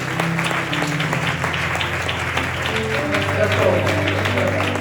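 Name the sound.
audience clapping for the Lord at a church service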